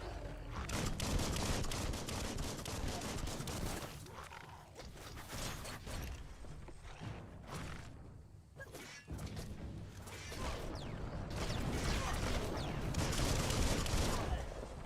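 Gunfire in the video game Biomutant, a dense, continuous barrage of shots and mechanical clatter with crashes running through the whole stretch, loud and busy, while a voice talks over part of it.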